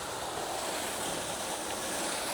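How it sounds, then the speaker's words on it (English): A waterfall at Crowden Clough on the way up Kinder Scout pours as a constant, even rush of water that fills the short clip, with no voices heard. "So we're at this waterfall."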